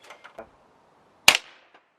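A single sharp crack comes from a Webley Nemesis .177 CO2 air pistol, close and loud, with a few soft clicks of handling before it.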